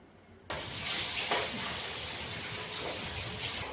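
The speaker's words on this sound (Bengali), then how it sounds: "আমি এভাবে বাকি মাছগুলো সব ভেজে নেব।" Fish pieces frying in hot oil for a Bengali doi katla gravy, heard as a steady close hiss and sizzle that starts abruptly and holds with small crackling surges.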